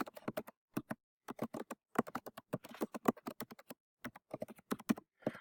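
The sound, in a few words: typing a message on a computer keyboard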